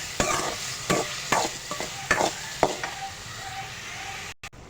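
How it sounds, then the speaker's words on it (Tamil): Tomato with fennel and cumin seeds sautés in a pan under a soft continuous sizzle, broken by sharp, regular scrapes and knocks of a stirring spoon, about one each half second, before a brief cut near the end. "தக்காளி கட்டிக்கிறோம், பெருஞ்சீரகம் சின்ன சீரகம் போட்டு வதக்கிக்கிறோம்."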